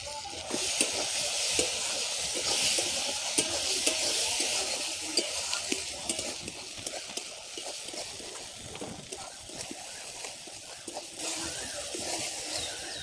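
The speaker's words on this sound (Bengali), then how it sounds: "মশলাটা ভালো করে কষে নিয়েছি" Spiced masala for a Sundarbans crab curry sizzles steadily in a pan while it is stirred and scraped, a continuous close frying hiss broken by soft spatula strokes, with no talking.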